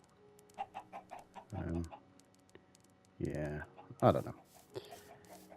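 Minecraft chickens in a coop, several short clucks and pecking clicks scattered through the scene, with a person speaking briefly over them.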